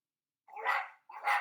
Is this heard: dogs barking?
yes